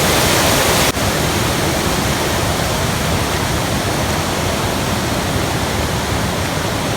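Stream water flowing past stones near crop fields in rural Konkan makes a loud, steady broadband rush that holds unchanged throughout, close by with no voices.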